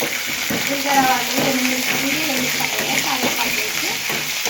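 Tempering of curry leaves with dried chillies, tamarind and urad dal sizzling in hot oil, a dense, steady crackle heard close, with faint tonal sounds from the surroundings mixed in.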